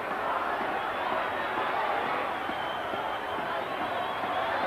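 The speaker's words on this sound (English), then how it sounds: "It's built up so much, it is certainly a very big crowd." A very big crowd at a 1989 Australian football match between St Kilda and Carlton, a dense continuous roar of voices at a distance, steady and loud.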